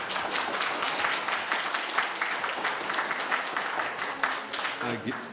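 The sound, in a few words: audience clapping at a city council meeting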